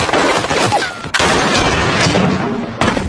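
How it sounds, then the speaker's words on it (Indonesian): Loud bursts of sniper and battle gunfire crack in rapid succession, with a couple of sharp, heavy shots standing out amid a dense, noisy battle din. "Sersan Liu perintahkan para penembak jitunya memberi tembakan perlindungan."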